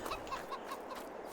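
Soft, quick clucking from chickens in a farming video game, a rhythmic series of short calls, faint and slightly synthetic-sounding.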